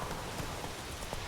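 Hoofbeats of Roach, Geralt's horse in The Witcher 3: Wild Hunt, a soft steady clip-clop of hooves over a dense, rain-like wash of ambient noise, fairly close and continuous.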